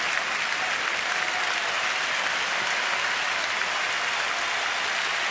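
Baseball stadium crowd at a Marlins–Nationals game rising to applaud pitcher Jordan Zimmermann, a dense, steady wash of clapping from thousands of spectators, broad and sustained without pause.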